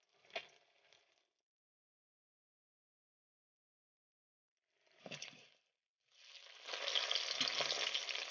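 Pieces of catla fish frying in a pan, a few short sizzling bursts separated by silence, then a steady, louder hiss of frying oil toward the end.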